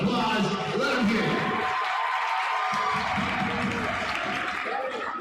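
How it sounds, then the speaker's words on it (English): Crowd applauding and cheering for United States Marines at a high-school rally, loud and steady throughout with whoops and voices mixed in. "Let's give the United States Marines a big round of applause."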